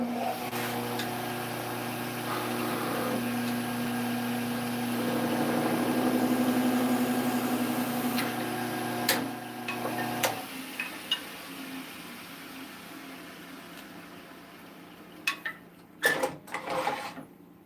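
Wood lathe spinning steadily with a tool cutting a turned wooden Christmas ornament free, a sustained humming whir that stops abruptly partway through, followed by scattered knocks and handling noises.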